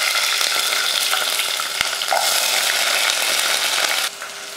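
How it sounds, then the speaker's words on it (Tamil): Mustard seeds, urad dal and onion frying in hot oil as a tempering for sambar: a loud, dense, steady sizzle with faint crackles, easing slightly near the end. "எண்ணெய் காஞ்சதுமே கடுகு உளுந்து, அடுத்ததாக வெங்காயம்,"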